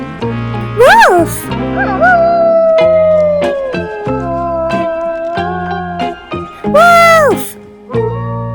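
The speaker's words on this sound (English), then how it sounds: "Wolf." A wolf's howl rises twice as a long tonal wail, loud and near, set among a children's animal-naming track with bright synthesized music throughout.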